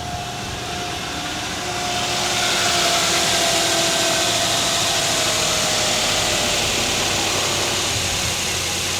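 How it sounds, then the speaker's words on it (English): A fourth-generation Toyota 4Runner engine fires up and keeps running, a steady broadband mechanical hum that swells after about two seconds and holds loud and close with no talking over it. "That thing just started right up."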